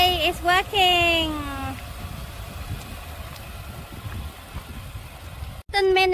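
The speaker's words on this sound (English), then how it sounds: "The car is running at the moment" A car's engine idles steadily after a jump start at a free camping spot in the Pilbara region, a low constant rumble running under voices that talk over it at the start and end.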